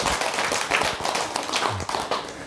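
An indoor audience claps together at a 2017 regular Buddhist dharma service at Bogwangsa temple in Damyang. The applause is a dense, steady patter that fills the whole stretch at moderate loudness, with no speech over it.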